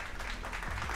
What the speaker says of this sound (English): another clap.